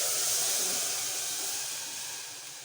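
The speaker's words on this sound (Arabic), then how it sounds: "ننزل عليها بعصير طماطم" Tomato juice pours into hot oil with onion and rice, giving a steady, loud, close sizzle and hiss that fades slightly, with no talk.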